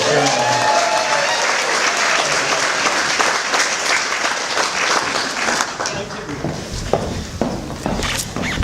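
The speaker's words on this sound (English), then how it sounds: "Give her a round of applause." Steady round of applause from an audience at an annual general meeting, continuous and fairly close, tapering toward the end into sparser individual claps with faint talk underneath.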